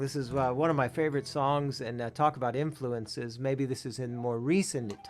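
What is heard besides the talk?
No everyday noise stands out behind the speech.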